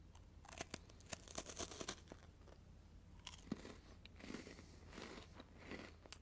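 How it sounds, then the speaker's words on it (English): A crunchy white hazelnut cream wafer with four layers is bitten and chewed up close, with a burst of sharp crackling crunches followed by softer, irregular chewing crunches. "The wafer is really crunchy and you get enough hazelnut cream."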